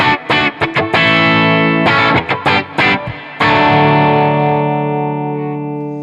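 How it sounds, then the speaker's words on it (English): Electric guitar with light gain run through a reverb pedal in front of an amp, quick choppy chord stabs followed by a long ringing chord that fades slowly with a reverberant tail, loud and alone. "Put on the reverb pedal."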